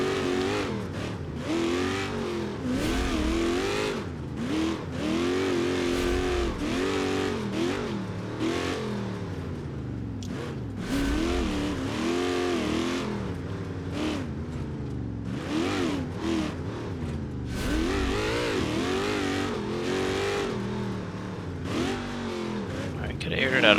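A mud truck in a driving game, put in four-wheel drive, its engine revving and surging in repeated rising and falling waves, loud and continuous, while someone talks over it.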